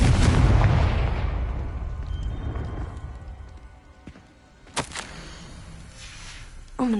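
A Confringo blasting spell explodes in Hogwarts Legacy with a loud boom and a long rumbling tail that slowly fades, followed by a couple of sharp cracks later on, with no voices.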